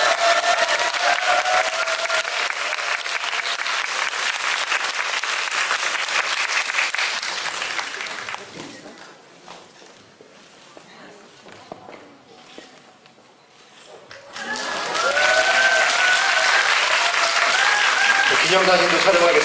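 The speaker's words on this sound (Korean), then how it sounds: "여러분 박수를 부탁드리겠습니다." A crowd claps at a cinema hall opening ceremony honoring actor Lee Byung-hun at Lotte Cinema Seongnam; dense, loud applause fills the first half, fades to a quieter lull, then swells again strongly at the end.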